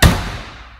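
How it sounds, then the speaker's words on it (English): A 1988 Volkswagen Syncro Westfalia's rear door shuts once with a solid, close, heavy thud that decays quickly, with no talk. "I'll close the rear door so you can kind of see what it sounds like compared to yours."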